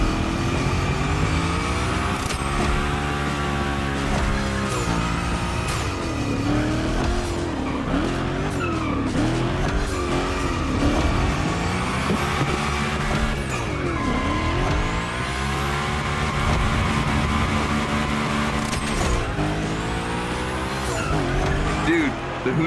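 Tires squeal and skid continuously as a Hoonigan gymkhana car drifts in The Crew Motorfest, with the engine revving loudly and rising and falling through repeated slides; voices talk over it.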